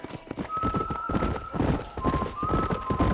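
Horse hooves clip-clop steadily while riding in the video game Red Dead Redemption, a galloping rhythm running throughout with an occasional whinny and a man calling out to urge the horse on.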